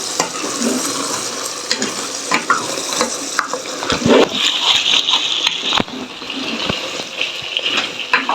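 Food frying in a pan for a simple home-cooked lunch, a steady close sizzle with stirring scrapes and occasional clinks throughout, no voices.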